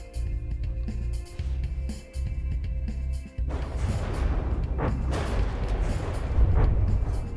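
Muffled rumbling underwater explosions in a naval battle video game, a steady low roar with heavy booms that swell and shift partway through, dense and continuous rather than distinct blasts.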